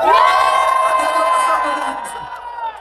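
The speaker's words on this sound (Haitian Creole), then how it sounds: "j'aimerais que vous puissiez applaudir le pasteur Grégory Toussaint" A crowd at an international march cheering loudly for pastor Grégory Toussaint, a dense, sustained roar of voices and whoops that slowly eases off.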